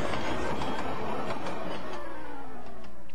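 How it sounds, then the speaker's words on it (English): A train rolling backwards down a hill, a steady rumble with rhythmic clatter of wheels on rails and a faint rising squeal, continuous and fairly close. "The train started to go backwards."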